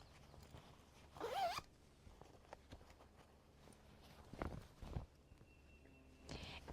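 The zipper on a zip-top fabric bag is pulled in one quick, close rasp, followed by faint handling rustles and soft taps in a quiet room.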